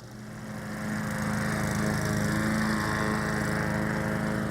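Lawnmower engine running while cutting grass, a steady buzzing drone that swells in the first second and then holds loud and constant.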